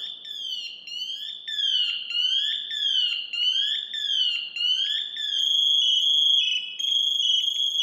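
A personal alarm sounds in rapid warbling electronic chirps that rise and fall repeatedly, then switches to a louder, steadier shrill tone, alone and close.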